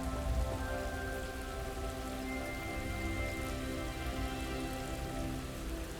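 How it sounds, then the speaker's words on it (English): Steady rain in the video game Hogwarts Legacy pours down continuously, a dense patter of drops on a surface with a faint tonal hum beneath, no voices. "Dude, it's raining over you."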